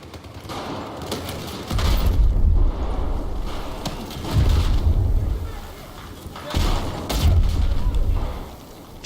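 Four heavy explosions from C4 and grenades in Battlefield 4 Domination mode come in a row, each a loud deep rumbling boom lasting over a second, with gunfire and battle noise continuing between them.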